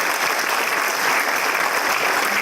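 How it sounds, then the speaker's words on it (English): An indoor audience at a leadership event gives a loud, dense round of applause, steady clapping filling the whole moment without speech. "a big round of applause for all the nice people that just helped you"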